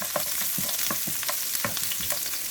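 Onion frying in hot oil in a pan, a close crackling sizzle punctuated by quick stirring taps and scrapes, steady and unaccompanied by speech.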